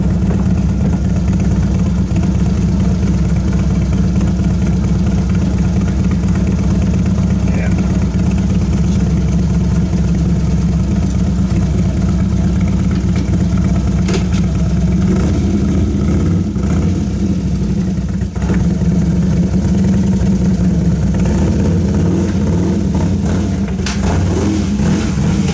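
A motorcycle engine runs steadily at a loud, even idle while the bike is loaded into a trailer behind a motorhome, with a low rumble throughout and slight shifts in tone near the end.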